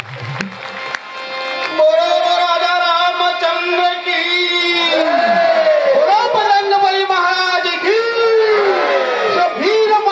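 A crowd at a Ramayan gathering raises a jaikara in Lord Ram's name: loud, sustained massed voices in a long drawn-out chant, near and continuous for about ten seconds.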